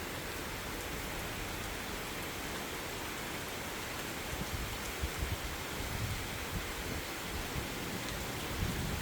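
Rain falls steadily in a forest beside Lake Peipus during a thunderstorm, a dense continuous hiss with low rumbling thumps growing more frequent toward the end.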